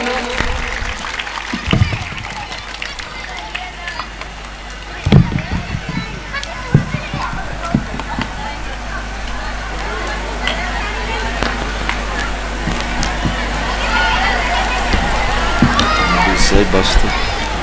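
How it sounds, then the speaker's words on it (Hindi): An audience claps loudly to welcome Ramesh sir at an Independence Day cultural programme. Scattered sharp claps build into sustained, dense applause that swells toward the end, with some voices mixed in. "तो रमेश सर के लिए एक बार जोरदार ताली उनके स्वागत के लिए"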